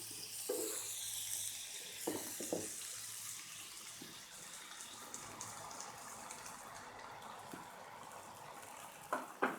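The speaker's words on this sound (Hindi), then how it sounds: "अब इसके अंदर मैं पानी ऐड करूँगी।" Water poured into chicken pieces frying in a pan for chicken mac and cheese, a steady running, splashing hiss with bubbling sizzle underneath, close and fairly quiet, with a few brief knocks and no talking.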